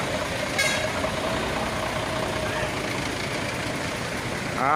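Trucks and other vehicles roll in from North Sumatra into Aceh along a jammed road near a landslide at Bukit Seumadam, Aceh Tamiang, a steady close engine rumble with a faint high whine and a rising note at the end.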